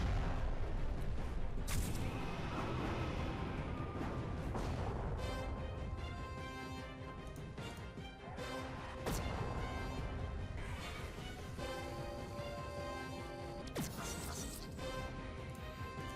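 Incisor beam weapon fire in the Halcyon 6: Starbase Commander space game, dense crashing blasts and booms layered over a continuous electronic game soundtrack, with several sharp impact bursts.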